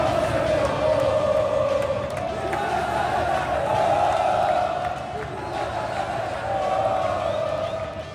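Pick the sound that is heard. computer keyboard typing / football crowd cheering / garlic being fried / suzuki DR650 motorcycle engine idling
football crowd cheering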